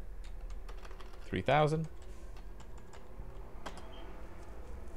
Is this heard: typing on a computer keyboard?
yes